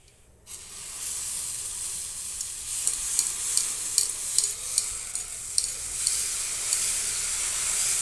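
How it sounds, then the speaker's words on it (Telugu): Pesarattu batter of salted green gram is spread on a hot pan and sizzles in a steady bright hiss, which starts abruptly after a brief quiet moment, with a run of sharper crackling pops through the middle, close by. "దోశ వేసి ఇప్పుడు పెసరట్టు వేస్తున్నాను."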